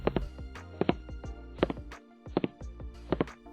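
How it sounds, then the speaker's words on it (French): Footsteps climb or descend a staircase in a steady rhythm of close, paired thuds that repeat evenly throughout. "Nous venons d'entendre des bruits de pas dans un escalier."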